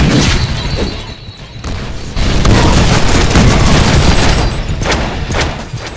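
Heavy gunfire and grenade blasts from the Deadpool video game: dense, loud booming volleys that run almost nonstop, with a brief lull before they swell again and hold at full strength.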